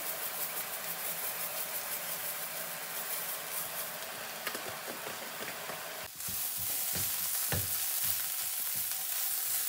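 Dried minced onions fry in a pan over lowered heat, giving a steady close sizzle with a faint mechanical hum underneath, brightening and crackling louder after a stir partway through.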